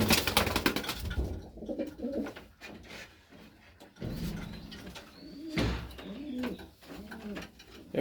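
Pigeons coo repeatedly inside a loft, several soft throaty calls overlapping at moderate distance, with occasional chirps and a brief flutter amid background noise.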